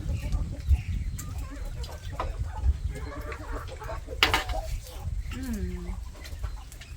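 Hens cluck and chatter close by amid busy farmyard noise, with a few voices talking faintly in the background.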